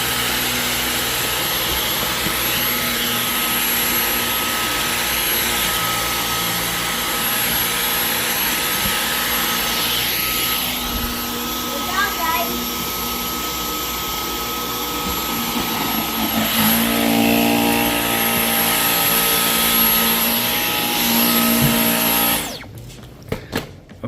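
A Dyson Outsize cordless vacuum cleaner runs steadily with a loud, constant motor whine and airflow hiss; the tone shifts partway through as it clogs, then cuts off abruptly at the end.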